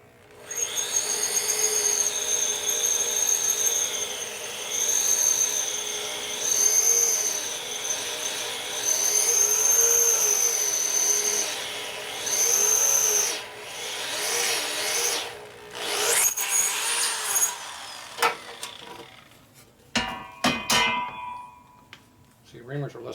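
A power drill whines with a wavering high pitch as a reamer grinds through metal, continuous for a while, then broken by scrapes, clicks and rattles near the end.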